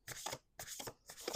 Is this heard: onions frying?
no